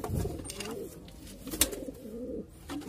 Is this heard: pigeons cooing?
yes